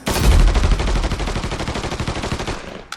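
Rapid automatic gunfire in the video game Mafia 3, a dense loud burst of shots rattling continuously for about three seconds, with a brief extra crack at the end.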